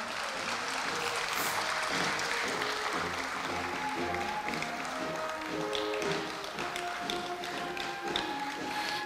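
Applause from the audience at a Korea University anniversary ceremony and award presentation, a steady wash of clapping carrying on for several seconds with faint background tones underneath.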